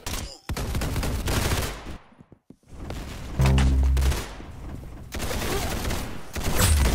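Rapid bursts of gunfire from the Roblox Arsenal shooter, a standard match on the aircraft map, crackle loudly in clusters with brief gaps and a short lull in the middle, no voices heard.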